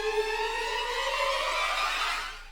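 A Pandora riser sound effect swells as a dense, bright synthetic sweep with sustained tonal layers, holding loud for about two seconds before tapering off at the end.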